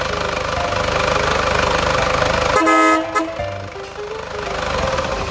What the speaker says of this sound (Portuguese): a buzina tá funcionando